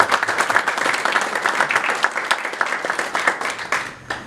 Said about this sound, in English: I think it deserves a round of applause itself.